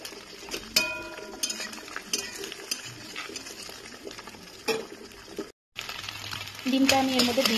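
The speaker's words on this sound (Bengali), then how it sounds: "ডিমটা আমি এর মধ্যে দিয়ে দিয়েছি তেলের মধ্যে।" An egg is frying in hot mustard oil in a wok, scrambled for a ridge gourd dish. A steady close sizzle runs throughout, with scattered utensil clinks and a short break near the end.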